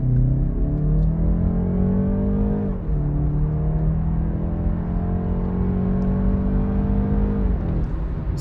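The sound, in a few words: BMW 330i pulling away and accelerating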